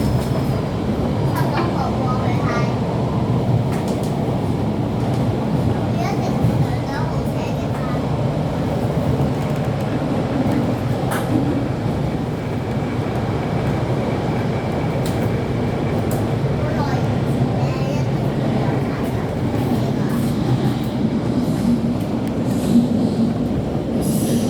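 A Hong Kong MTR Tseung Kwan O line K-stock train rumbles steadily along the track, its brakes squealing loudly and persistently over the continuous wheel and carriage noise throughout.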